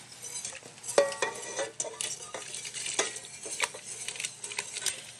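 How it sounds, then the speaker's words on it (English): A whisk works through thick béchamel sauce in a pan for macaroni and cheese, giving a steady run of soft scraping, stirring strokes with light metallic taps against the pan's sides. "I'm going to transfer from a wooden spoon to a whisk"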